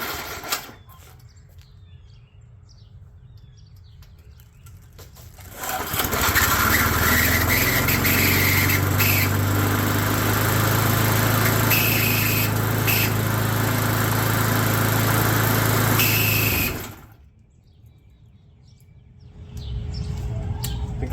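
A long-neglected small engine with a blade fitted is pulled into life and runs steadily at a loud, close idle for about ten seconds before cutting out, with faint bird calls audible in the quiet before and after.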